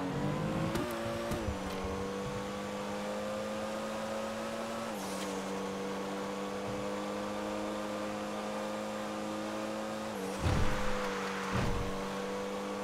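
Race cars in Grand Theft Auto power out of a turn at Azure Sky Raceway, their engines holding a steady, droning whine with brief gear-shift dips and a louder pass near the end.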